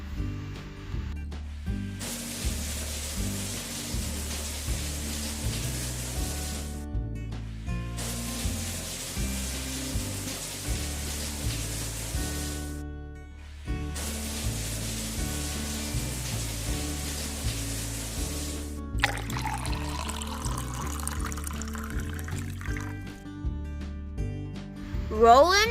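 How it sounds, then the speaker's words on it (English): A toy car wash sprays water in long hissing bursts with short pauses between them, set over bouncy background music and followed by a rising swooshing effect. "Here comes the water."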